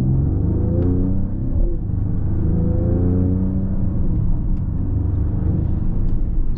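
A 2021 Mercedes-AMG GLE 53 Coupe cruising in automatic mode gives a steady, loud interior engine and road rumble with smooth gear shifts and no talking.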